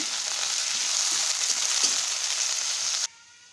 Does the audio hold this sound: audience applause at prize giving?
no